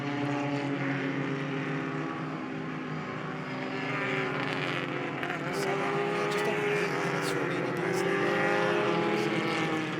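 A safety car leads a field of race cars around Indianapolis Motor Speedway during the SCCA Runoffs, giving a steady, continuous engine drone that stays loud and unbroken without speech.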